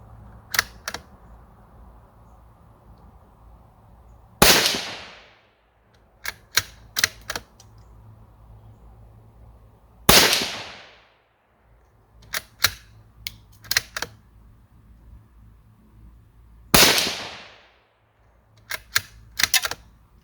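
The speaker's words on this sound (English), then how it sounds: "We're going to be firing a 5-round group, and we're going to do that rested in the Caldwell lead sled." Savage 93R17 bolt-action rifle in 17 HMR firing Winchester ammunition from a Caldwell Lead Sled rest: three sharp, loud reports spaced about six seconds apart, each with a short ringing tail, and small metallic bolt clicks between shots.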